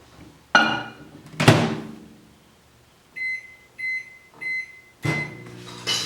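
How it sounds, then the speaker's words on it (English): A microwave oven's door thunks open and shut around a container of pigment mix, followed by a series of regular beeps from the control panel and a final door thump, close and fairly loud. "okay, let's throw that in the microwave."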